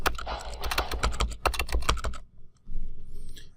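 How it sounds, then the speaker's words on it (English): Fingers type quickly on a computer keyboard up close, a dense run of key clacks for about two seconds before a short pause and softer rustling. "And then I can type my stuff here."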